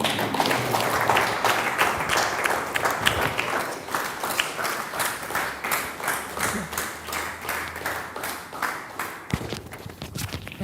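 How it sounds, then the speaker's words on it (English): An audience claps at a yoga-week talk, a rhythmic, fairly close round of applause sustained for several seconds and fading slightly near the end. "I think we need one more applause."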